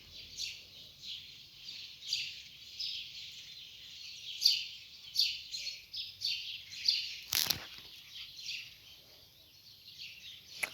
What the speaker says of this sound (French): On a les oiseaux